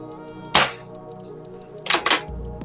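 A Barra 250z air rifle fires at a propane tank target outdoors: one sharp, close crack, then after a pause a second report followed quickly by another snap, with quiet in between.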